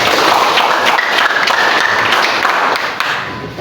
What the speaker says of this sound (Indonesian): tepuk tangan dulu untuk Denis dan Denis